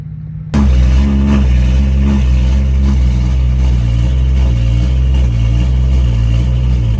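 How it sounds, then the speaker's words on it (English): BMW 135i with an N55 engine starts abruptly and settles into a steady, loud, close idle with a low, even drone and slight rhythmic flutter as it runs through Valvetronic cycles, alone with no voices. "You can hear the idle getting a little bit cleaner too as the car is running through the cycles."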